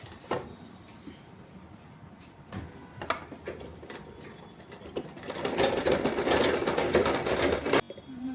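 A sewing machine stitches piping and added cloth onto a long frock coat, starting with scattered short mechanical bursts, then running into a sustained, steady whir for a few seconds before stopping abruptly.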